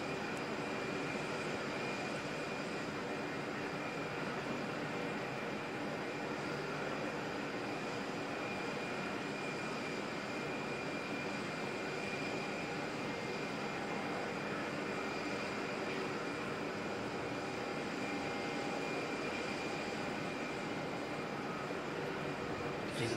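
An airliner lands in strong crosswinds at Auckland Airport, a distant, steady engine roar with a faint whine, holding at a low level for over twenty seconds with no talk.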